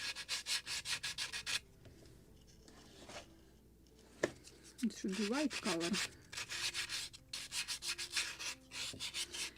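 Rhythmic rasping strokes of sandpaper on a wooden model boat kit, close and brisk, pause while a person speaks briefly, then resume in quick bursts.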